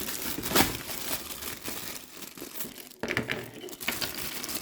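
A gift box is opened and its wrapping crinkles and crushes close by, a steady papery rustle with a brief pause before a louder burst of crackling.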